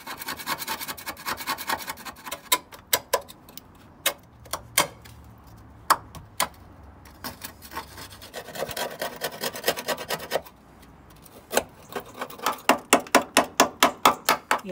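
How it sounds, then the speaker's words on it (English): A screwdriver scrapes rust off the front of a car in repeated sharp rasping strokes, some isolated and others in fast rhythmic bursts toward the end, close and loud, with no talking. "take the screwdriver and just scrape off the worst bits"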